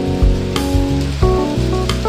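Eggs hit a pan of fried rice with BBQ pork and sizzle loudly and steadily, with a few sharp clatters of a utensil against the pan and no voices.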